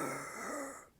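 A voice imitating a monster's ragged breathing from under a bed: a single short, breathy rasp that fades out within a second, close and quiet.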